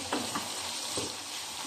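Pork frying for Filipino binagoongan with tomatoes, a steady close sizzle throughout with faint stirring taps, no talking.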